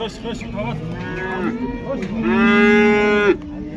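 Cattle at a livestock bazaar in Kyzylorda low repeatedly, ending in one loud, long, drawn-out moo close by, with faint voices and market bustle beneath.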